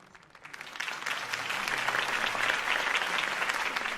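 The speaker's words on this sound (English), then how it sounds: "If only Mr. Wayne, my campaign's largest backer, could have heard that applause" Crowd applause after a campaign speech in the Batman Telltale video game swells from quiet into dense, sustained clapping from a large audience, steady and full for several seconds.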